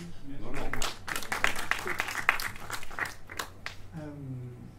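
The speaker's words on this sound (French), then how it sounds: "vous pouvez les applaudir" A room of people claps at a press conference for the Cinémondes 2021 film festival. The applause is moderate and uneven, and voices talk at the start and again at the end.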